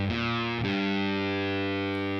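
Distorted electric guitar playing the opening lick of a riff: a couple of quick picked notes, then a held note ringing out steadily, close and without talk.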